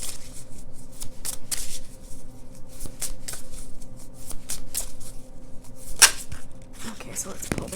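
Angel oracle cards are shuffled and handled up close, a continuous papery riffling with sharper snaps and slaps, over a faint background hum.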